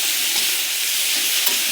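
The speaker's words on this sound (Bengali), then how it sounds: "চিচিঙ্গে আলুটা একটু ভালো করে ভেজে নেব" Snake gourd and potato pieces fry in hot oil with chilli, turmeric and cumin powder, giving a steady close sizzle and crackle with occasional stirring scrapes and no talk.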